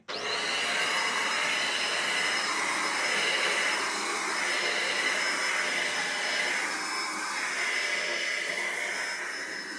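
An AGARO handheld vacuum cleaner runs steadily at close range, a continuous high whine and airy rush that holds even from start to finish, with no voices.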